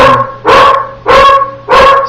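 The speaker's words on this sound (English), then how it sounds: "maybe you can hear me over the dog" A dog barks loudly nearby, three sharp barks spaced evenly apart, with nothing else in between.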